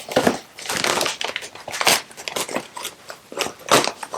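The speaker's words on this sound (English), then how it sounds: "So let's go ahead and open up the package." Crinkling, crunching plastic packaging of a Canon EF-M 11-22mm wide-angle lens being handled and torn open in bursts, close and fairly loud, with no talking.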